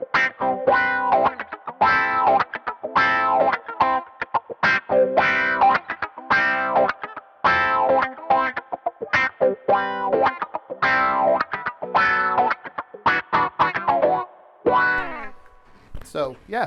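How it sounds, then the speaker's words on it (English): Electric guitar through the wah effect of a Boss ME-90 multi-effects pedal, clean tone, plays funky, choppy, rhythmic strums and short bursts with sweeping vocal-like filter, close and loud, no talking. "I also like to use wah with a clean tone to kind of play some like funky stuff like this."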